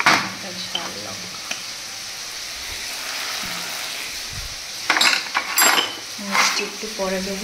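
Chicken with Kashmiri chilli and spices sizzles and is stirred hard in a pan, metal scraping and clinking in bursts over a steady frying hiss, while someone speaks briefly.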